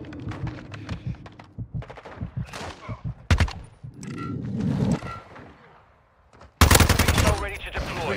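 Call of Duty MW2 multiplayer gunfire, including the TR-76 Geist rifle: rapid bursts of automatic shots with loud sharp reports, a brief lull, then a dense, close volley, with game voice callouts mixed in.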